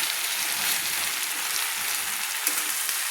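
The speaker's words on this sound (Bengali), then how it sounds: "কলি আর আলু আবারও আমি একসঙ্গে একটু 1 মিনিট মতো একটু ভেজে নেব।" Onion stalks and potatoes fry together in a pan, giving a steady, close hiss and sizzle with faint crackles throughout and no talking.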